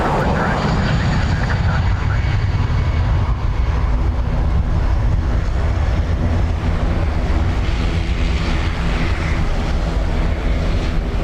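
A departing airliner at Dublin Airport roars loud and continuous, a broad steady engine rumble that holds unbroken throughout.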